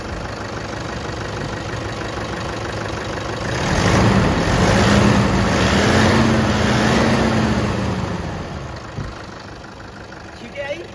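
Diesel car engine idling, then revved lightly for a few seconds with a rising, wavering hum before settling back to idle. A voice talks over it.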